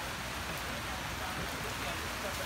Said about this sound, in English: we are sitting under a tent in the rain